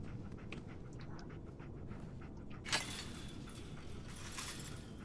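Dog panting in Fallout 4, soft rapid breaths repeating through the quiet scene, faint and close, with a brief clink or jangle about midway and no speech.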